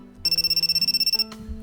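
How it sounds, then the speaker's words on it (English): A telephone rings with a rapid electronic trill, about a dozen quick pulses in one burst, loud and close, before a short tone and quiet. "the phone rang"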